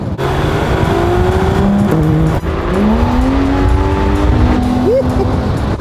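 A loud, deep engine growls continuously from inside the car, its pitch rising and shifting through gears, with a voice briefly heard.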